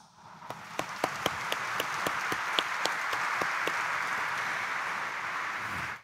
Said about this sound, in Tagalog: narinig niyo po ang palakpak na sagisag na hindi tayo hihinto